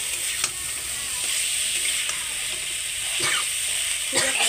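Vegetables sautéing with spices in a pan for a rohu fish and potato curry with karkul, a loud continuous sizzle broken by repeated scrapes and stirring strokes, close by with no talking.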